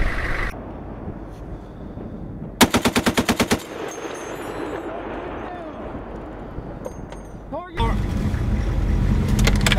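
An M2 Browning .50 caliber heavy machine gun fires a short burst of about eight loud, evenly spaced heavy shots at a firing range, with voices and engine noise before and after.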